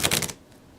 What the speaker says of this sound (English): So we'll just do a small little shuffle